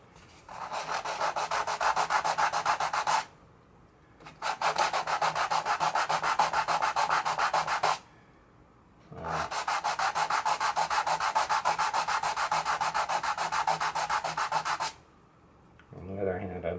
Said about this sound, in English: I'm going to sand this because I want a really good contact.